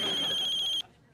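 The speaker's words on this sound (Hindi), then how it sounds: "लुगाई को फोन नहीं है, मनोहर को फोन है।" A telephone rings with a bright, steady electronic ringtone, loud and close, then cuts off abruptly partway through, leaving quiet room tone.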